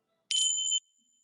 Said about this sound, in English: So I was going to use these bells